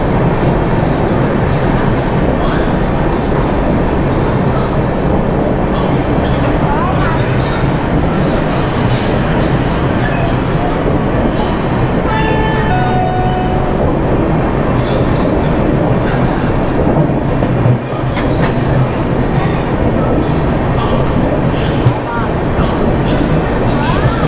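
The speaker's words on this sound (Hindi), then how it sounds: "तो ये गाइज वेब 7 लोकोमोटिव के साथ हमारा पहुंच चुका है छत्तीसगढ़ एक्सप्रेस रायपुर के" The Chhattisgarh Express hauled by a WAP-7 electric locomotive at Raipur Junction, a loud constant rumble of rolling stock with wheel clatter and a brief tonal squeal midway, while someone speaks over it throughout.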